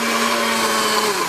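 A kitchen blender whirs with water and sugar-free pudding mix inside, a brief, steady, close motor drone with no talking.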